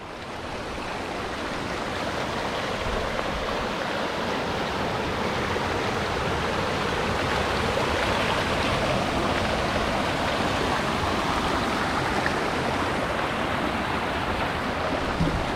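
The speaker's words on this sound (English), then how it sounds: "the only little waterfall there" A small waterfall beside the Telegraph Track, a steady broad rush of falling water, close and continuous with no pauses, its level constant throughout.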